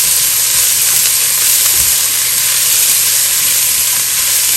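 Eggs frying in a pan for egg curry, giving a loud, continuous close-up sizzle and hiss that holds steady throughout with no talking.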